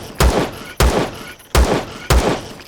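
Four sharp, loud pistol shots from a level 2 pistol in the video game Empyrion Galactic Survival, fired at a steady pace about half a second apart, each with a short booming tail.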